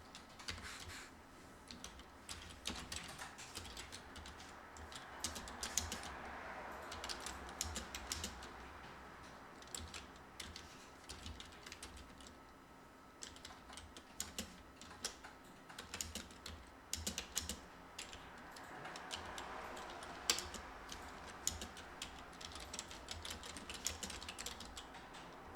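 Rapid clicking of computer keyboard keys, typed in bursts with short pauses, fairly faint and close, with no voices.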